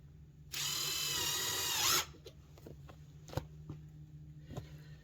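A power drill drives screws into a wooden deck step stringer. One loud, steady whir lasts about a second and a half, followed by quiet taps and clicks.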